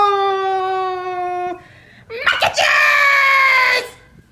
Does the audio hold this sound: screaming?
yes